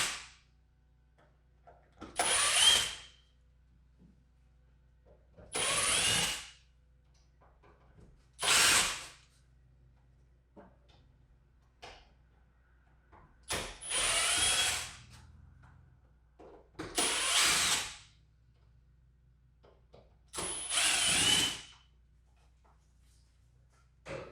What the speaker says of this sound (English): You don't need electric tools to do this. It's just faster to do it this way.